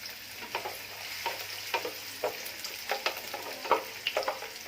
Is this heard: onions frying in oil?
yes